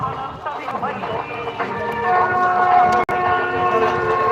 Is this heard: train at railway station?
yes